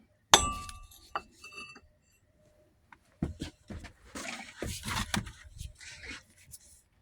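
Sharp metallic hammer strikes crushing brittle induction furnace slag, a loud first hit followed by a quick series of cracking, crunching blows.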